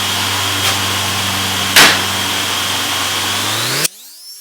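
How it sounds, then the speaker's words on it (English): A motor-driven polishing wheel hums steadily while buffing a part from a 1978 Honda CB550K motorcycle. A brief harsh scuff comes midway, then the motor cuts off and spins down. "Using the polishing wheel is going to take forever"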